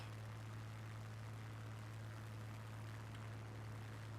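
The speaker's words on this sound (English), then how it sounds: "Let's go outside and just listen to the engine noise a little bit." A Spitfire engine runs at idle in Microsoft Flight Simulator, heard from an outside view as a steady, low droning hum with a constant deep tone, unbroken and fairly quiet.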